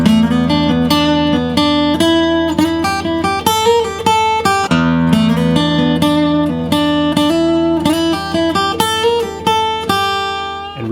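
Guitar playing minor blues scale licks, clean plucked single notes with bends and slides, close and clear, a run of phrases with brief pauses between them.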